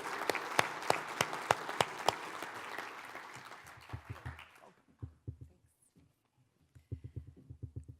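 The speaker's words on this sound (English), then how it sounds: "Let's give them a round of applause." Applause from an audience at a technology event swells loudly for a few seconds, then thins out into scattered claps and fades to near silence, with a few hollow thumps near the end.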